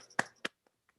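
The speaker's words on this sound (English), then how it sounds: "That's the applause from the attendees." Sparse finger snaps as applause from meeting attendees: two crisp, close snaps followed by a couple of fainter, more distant ones, then quiet.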